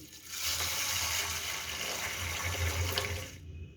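A steady stream of water pours continuously into a metal pressure cooker holding whole mash lentils and green chillies for a few seconds, then stops.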